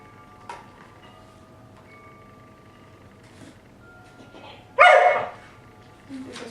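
A dog in a shaping training session gives a single sharp, loud bark midway, with a fainter click-like tap earlier and a short sound after it, against a quiet room background.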